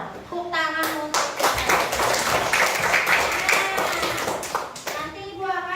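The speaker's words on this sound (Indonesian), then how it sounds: "Tepuk tangan untuk" Classroom applause from a group of children, a burst of rapid clapping lasting several seconds, loud and close, with a teacher's voice briefly before and after.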